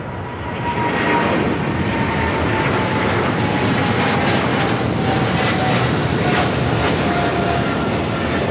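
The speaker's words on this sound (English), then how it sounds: "The 777 freighter rolling down at 25 left." Boeing 777 freighter on its takeoff roll down runway 25 left at Los Angeles International Airport, a loud, sustained jet roar building quickly and holding steady from a distance, with no talk.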